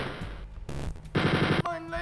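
A chain gun fires in rapid, rattling bursts in Wolfenstein 3D. Several short volleys crackle loudly in close succession, broken by brief gaps and other game sounds.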